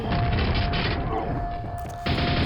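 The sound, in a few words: nailgun firing in video game Quake VR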